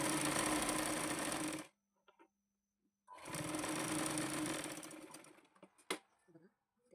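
A sewing machine stitches a blouse in two loud, rapid whirring bursts separated by a brief pause, followed by a few quiet clicks of handling.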